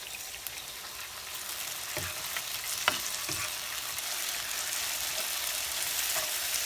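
Chopped onions and garlic sizzle steadily in a hot pan, a continuous bright crackle with a few sharper pops and scrapes, close and fairly loud with no talking.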